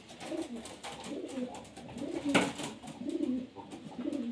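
Pigeon cooing repeatedly while being held in the hand, soft throaty coos in a steady rhythm, close and moderately loud, with handling rustle and no talk.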